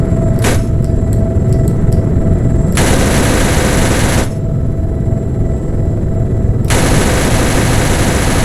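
A helicopter gun in the Arma Reforger video game fires loud sustained bursts, two long roaring volleys separated by stretches of steady engine rumble.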